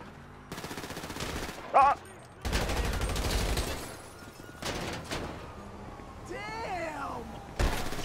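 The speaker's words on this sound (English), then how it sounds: "Get down, got a rifle." Rifle gunfire in GTA 5 during a roleplay highway patrol scene at Sandy Shores, loud bursts of rapid shots separated by pauses, with a sharp single crack near the end and voices over the radio in between.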